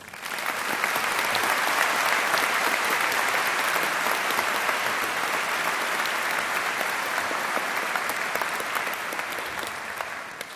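An audience at a 2009 Carnegie Mellon Tepper diploma ceremony applauds the keynote speaker with dense, sustained clapping that stays loud and even for about ten seconds.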